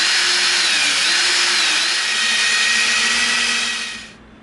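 A power drill with a larger bit bores through EVA foam in a loud, steady whirring drone that carries on for about four seconds and then winds down and stops, with no talking.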